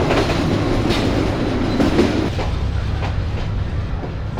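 The Paharika Express rolls along the tracks with a loud, continuous rumble and clickety-clack of wheels, heard up close for the whole stretch without voices.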